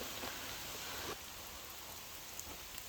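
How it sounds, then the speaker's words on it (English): Steady rain falls outdoors in the Vale of Belvoir during a torrential spell, a dense, even hiss of drops on surfaces with a few louder patters, continuous throughout and no voices. "It's raining again."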